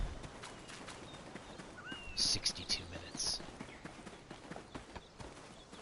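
Horse hooves clip-clop at a steady walking pace in the Black Desert video game, fairly quiet and mixed with ambient game sound and a brief spoken line.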